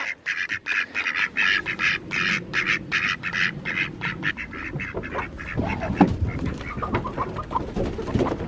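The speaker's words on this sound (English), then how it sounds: "All those ducks love to muddy up some water." A flock of ducks quacks loudly and repeatedly in dense, overlapping calls close by, with clucking chickens mixed in, and splashing near the end.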